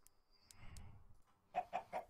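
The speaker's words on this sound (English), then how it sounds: "So I'm gonna breed my chickens." Chickens in the video game Minecraft give a few short clucks, then three quick, louder clucks in a row, close and alone.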